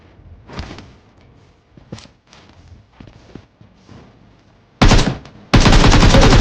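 Automatic gunfire in the mobile battle-royale game PUBG Mobile: scattered footsteps and thuds lead into two loud, sustained bursts of rapid rifle fire at the end, close and dominant, with no talking.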